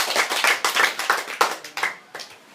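A small group claps for a high school debater after she is introduced, a quick run of sharp hand claps lasting a couple of seconds and trailing off unevenly at the end.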